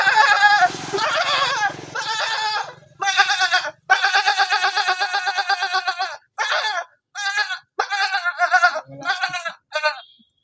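A man imitates a goat with a run of bleats, loud and close, in a series of wavering cries broken by short pauses, with a brief burst of background noise at the start.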